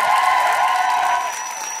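Audience applause with some cheering at a Swedish comedy show, as a guest R&B singer is welcomed on stage; a dense, steady wash of clapping that fades slightly toward the end, with a faint tonal hum throughout.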